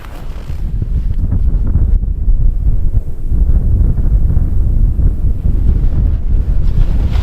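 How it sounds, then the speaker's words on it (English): Strong wind whips across an open frozen lake in deep snow at about minus 28°C, a loud continuous low roar buffeting the microphone without a break for the whole stretch, with no voices. "Getting across the lake where the wind is whipping is gonna be nasty"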